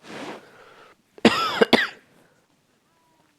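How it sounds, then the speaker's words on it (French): A person with a cold coughs in a quiet room, with a soft burst first and then a close, loud cluster of harsh coughs and throat clearing, each lasting about a second, followed by silence. "vous pourrez m'entendre souvent tousser ou autre"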